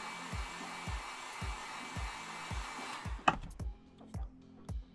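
A heat gun blows a steady broadband hiss while warming a plastic hose for bending during helmet making, with a faint rhythmic thumping under it; the blower cuts off after three seconds, leaving scattered knocks and taps.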